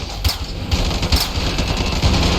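Rapid automatic gunfire in the game Ravenfield rattles in dense, continuous bursts, loud and up front, with no speech.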